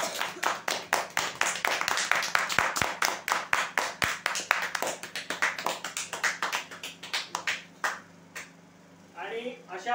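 A small audience at a customer prize draw claps in sharp, distinct, closely spaced hand claps that gradually thin out and stop, after which a voice begins speaking.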